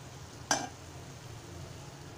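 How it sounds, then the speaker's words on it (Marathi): A spoon stirs a Malvani-style cowpea curry mixed with fresh grated coconut and coriander, making two short scraping strokes against the pot, separated by quiet, with no talking. "घालूया आणि कोथिंबीर घालूया आणि मिश्रण छान एकजीव करून घेऊया"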